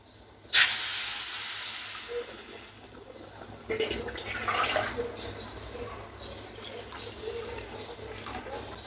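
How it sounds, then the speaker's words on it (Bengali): Water poured into a pan of frying rice for pulao bursts into a sharp, loud hiss that then settles into a steady sizzling steam, with clatter and stirring noises partway through. "এবং সেই পর্যায়ে আমরা পানি দিয়ে দিব।"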